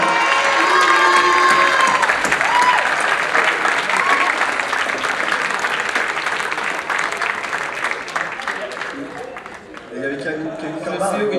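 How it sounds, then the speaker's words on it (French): A theatre audience applauds and cheers at a dance show, dense clapping and shouts filling the room at full volume before thinning toward the end, where voices become more distinct. "Et je voulais que vous l'applaudissiez"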